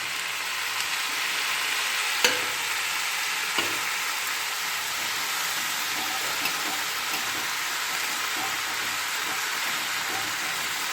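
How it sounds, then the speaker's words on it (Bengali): Tomato and ginger paste sizzles steadily in a pan, a close, even hiss with a few sharp clicks as a spoon stirs and scrapes through it. "আর এখন আমি এই যে টমেটোটা রেখেছিলাম আর তার সঙ্গে একটু আদা পেস্ট এখন দিয়ে দিচ্ছি"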